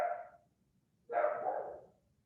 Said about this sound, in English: I don't know if you guys can hear my dog barking